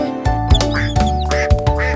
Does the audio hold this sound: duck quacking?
yes